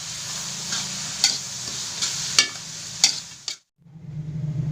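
Genjer (yellow velvetleaf) flowers stir-fry in a pan, a close, even sizzle punctuated by three sharp spatula clanks against the pan, then a brief silence before the frying hiss resumes.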